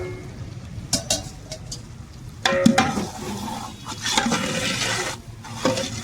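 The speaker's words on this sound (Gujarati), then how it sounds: "બટેટા નાખી દો ભાઈ." Potatoes tipped into hot oil in a home kitchen, giving a broadband sizzle that swells partway through and holds steady, with clinks of utensils and stirring scrapes around it.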